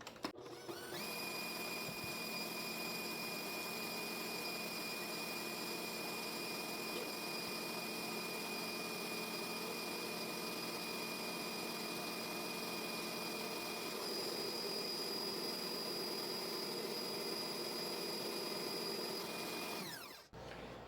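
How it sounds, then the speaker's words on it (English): A kitchen mixer whirs steadily as it beats two egg whites until foamy for coconut macaroons, a constant close hum that runs unbroken and stops at the end. "pop 2 egg whites in there. And now we're going to whir them up until they're foamy"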